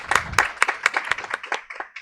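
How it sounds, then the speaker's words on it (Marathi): Audience clapping at an institute felicitation ceremony honouring a student, a steady patter of many hands at moderate distance with no talk over it. "पुनश्च टाळ्या वाजून तिचा सत्कार करूया सर्व टाळ्या"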